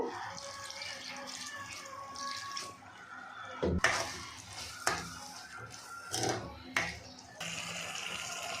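Cauliflower gravy, made without onion or garlic, bubbling in a pot as a ladle stirs it, giving a wet simmering hiss punctuated by several sharp knocks and scrapes against the pot, close by.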